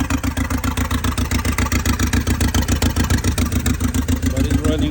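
A 2006 Audi A4 engine running steadily at idle after starting, with a loud, close, evenly pulsing exhaust throb and no voices.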